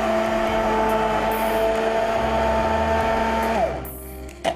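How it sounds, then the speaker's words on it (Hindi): A kitchen blender whirs at a steady high-pitched motor drone while blending chutney, then switches off and winds down near the end, followed by a brief clunk. "अब इसको ब्लेंड कर देंगे, ठीक है।"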